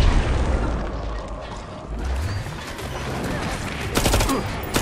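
Dense bursts of rapid gunfire and booming explosions from the shooter game Killing Floor 2, loud and continuous, with a sharp volley near the end.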